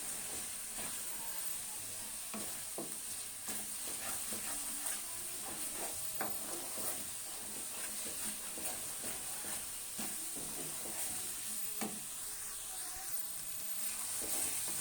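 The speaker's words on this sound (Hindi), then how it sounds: "अब हम इसमें तमाम मसाला जात ऐड कर देंगे, और इसको अच्छी तरह से मिक्स कर लेंगे।" Tomatoes with a mix of spices frying and being stirred in a pan, a steady soft sizzle and hiss with scattered scraping stir strokes throughout, moderately quiet and mostly uninterrupted.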